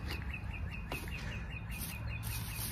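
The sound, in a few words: bird singing outdoors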